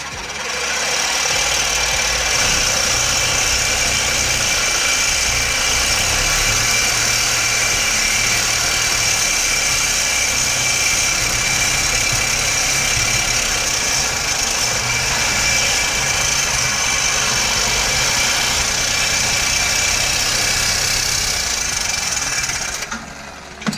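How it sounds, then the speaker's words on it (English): Reciprocating saw cutting through a rear ball joint on a BMW E46 M3, a steady loud buzzing drone running nearly continuously for over twenty seconds before stopping abruptly, with no talking. "I'm going to have to cut this off using a reciprocating saw."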